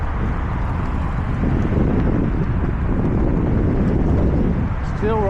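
Wind roaring steadily across the microphone while cycling home against a headwind, a loud, continuous low rumble with no letup.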